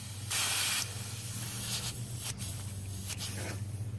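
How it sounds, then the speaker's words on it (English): An air compressor pumps up a bicycle tire: a sharp burst of hissing air opens the sequence, followed by several shorter hiss pulses and faint handling noises, all close, with no speech. "we actually have an air compressor"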